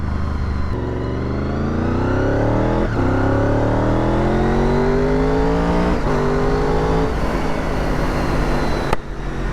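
A 2000 Honda VFR800 motorcycle accelerates hard on a test ride. The engine climbs steadily through several gears with brief dips at each shift, and the exhaust note is loud, close and continuous.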